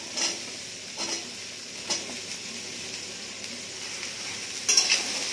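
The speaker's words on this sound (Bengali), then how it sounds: "আলু ডাঁটাটাও প্রায় ভালোই ভাজা হয়ে গেছে" Potato and vegetable stalks frying in a pan for a mixed vegetable dish, giving a steady, moderate sizzle broken by a few brief stirring scrapes, with no one talking.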